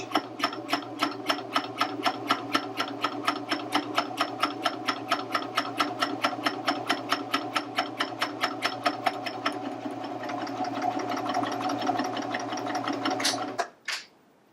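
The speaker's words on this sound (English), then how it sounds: "You just put your fabric under your foot and just stitch." A Baby Lock Vibrant serger stitches and gathers fabric with its differential feed set high. It makes a steady, fast, even mechanical chatter up close for about fourteen seconds, then stops abruptly, with no one talking.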